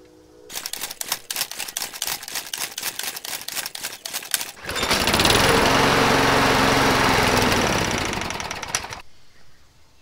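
A Toro Super Recycler lawn mower is pull-started: several quick rattling pulls of the recoil cord, then the engine catches with a loud close roar for a few seconds before sputtering and dying.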